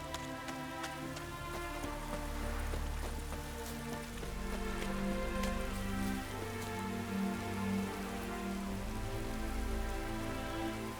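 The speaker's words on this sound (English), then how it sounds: "Looks like rain." Steady rain falling in The Witcher 3: Wild Hunt, a constant patter of drops on surfaces with a low rumbling backdrop, continuing evenly throughout.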